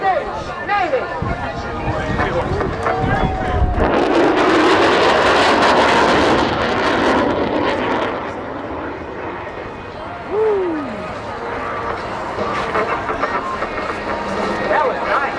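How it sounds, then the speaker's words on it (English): A US Navy F-18 Super Hornet jet passes over an air show in Chicago, a loud rising roar that swells into a broad rushing blast and then fades, heard under an announcer talking over a PA. "The F-18 Super Hornet from the United States Navy."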